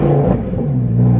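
A Lamborghini with an Akrapovic exhaust lets out a short, loud, close engine rev, a deep throaty roar that stays heavy for about a second.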